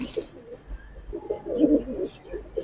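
A silver gribaz pigeon coos nearby in soft, low, rolling phrases, a short burst followed by a longer throaty coo, alone and moderately quiet.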